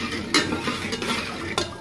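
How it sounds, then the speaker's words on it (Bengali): A spoon stirs sugar into milk tea in a pot for a village-style Bengali breakfast. Soft, continuous scraping runs under a faint simmer, with a few sharper clinks against the pot and no talking. "তার ভিতর পরিমাণ মতো চিনি দিয়ে ভালো করে নাড়াচাড়া করে নেব"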